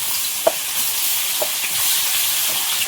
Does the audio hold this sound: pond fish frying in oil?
yes